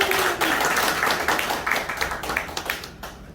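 Steady audience applause at a seminar forum, a dense patter of many hands clapping that starts at full strength and then thins and fades near the end.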